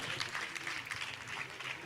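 Faint, steady crowd applause for the Blaze Theatre Company after a dance performance at a dairy and nutrition event, heard at a distance throughout.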